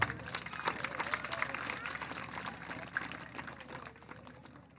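A school annual day crowd applauds student award winners: a broad, continuous rush of clapping that swells early, then gradually thins and fades toward the end, sounding somewhat distant in a large hall.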